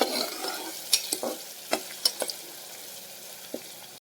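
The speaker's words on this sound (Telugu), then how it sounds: "ఉల్లిపాయని బాగా వేగనివ్వాలండి" Chopped onions and green chillies fry in a pan for a raw banana curry, a steady sizzle broken by repeated scraping stirs that come as short, close, uneven strokes.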